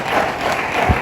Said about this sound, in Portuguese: Aplauda ainda para a glória do Senhor.